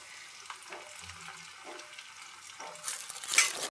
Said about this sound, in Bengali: বাটিতে যে মেশানোর সসটা ছিল সেটা আমি কড়াইয়ে ঢেলে দিলাম